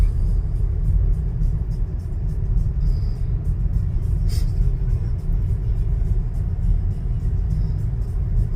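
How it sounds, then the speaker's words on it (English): A salt truck rumbles past on a snowy road, producing a steady, loud low engine drone with road noise that holds throughout, accompanied by faint ticking above. "Salt truck."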